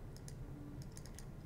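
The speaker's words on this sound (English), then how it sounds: "once I start typing it in, it actually gives me the options" Quick bursts of typing on a computer keyboard while entering RobotC code, a few close, light key clicks in short runs over a quiet room hum, no talking.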